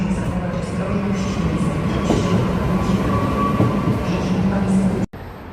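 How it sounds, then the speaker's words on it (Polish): A Regio passenger train pulls out of Kraków Główny station, a steady loud rumble of wheels and carriages running close by, with a faint station voice in the background before the sound cuts off abruptly. "Wyjeżdża pociąg Regio do stacji Kielce."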